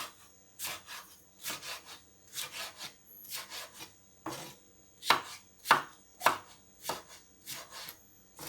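A knife chops a carrot into strips on a board, about a dozen crisp, evenly spaced cuts, close and clear with no talk.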